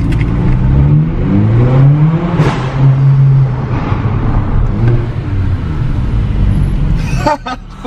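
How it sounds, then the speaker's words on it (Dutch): A standard Mercedes A45 revving near a car park on a supercar tour to the Nürburgring, with a loud engine rising and falling in pitch, overlaid by other traffic and voices talking. "En dat is dus een standaard A45, maar ja, klinkt ook wel lekker"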